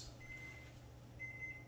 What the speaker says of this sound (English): There's the beep beep.